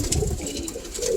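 A cock pigeon in a loft gives soft, low, throaty cooing, repeated murmuring pulses with faint bird chatter and rustling around it.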